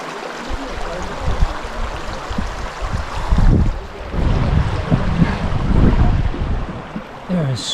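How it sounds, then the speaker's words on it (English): Warm river water from hot springs in Iceland rushing steadily nearby, with gusts of wind buffeting the microphone. "It's like a warm water river with different stops along it."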